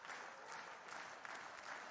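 Spectators applauding at an indoor athletics meet in Nehvizdy, a dense, steady wash of clapping from a crowd filling the hall, fairly faint and distant.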